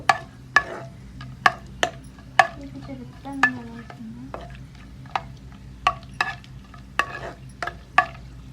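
Onions frying in a pan, heard as a low, soft sizzle broken by sharp, repeated clicks and taps of a spoon stirring against the pan, with no voices.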